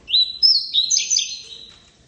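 A captive double-collared seedeater (coleiro pardo) of the tuí-tuí song type sings a loud, close series of bright, high chirping whistles that trail off toward the end, with nothing else audible.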